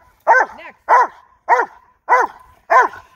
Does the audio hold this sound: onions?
no